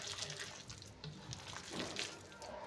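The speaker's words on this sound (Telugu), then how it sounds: "ఇక్కడ చూపిస్తున్న విధంగా కొద్దిగా నీళ్ళు పోసుకుంటూ కలుపుకోవాలి" Water trickles into onion pakoda batter as it is stirred, a faint, quiet splashing and squelching up close.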